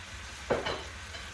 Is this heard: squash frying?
yes